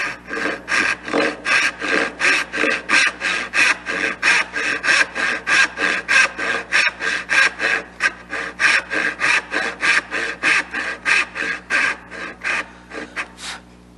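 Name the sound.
hand saw cutting dovetail tails in wood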